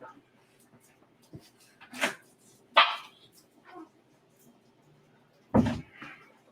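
A dog barks in scattered single woofs indoors, four or five sharp barks spaced irregularly over several seconds with quiet gaps and faint background noise between.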